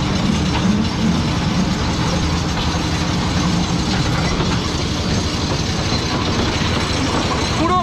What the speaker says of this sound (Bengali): পুরো মিউজিয়াম কিন্তু ঘুরে দেখায় এই টয় ট্রেন।